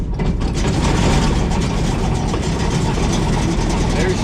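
The engine of an Allis Chalmers Gleaner G combine cranks and runs with a loud, dense, continuous mechanical clatter heard up close for several seconds.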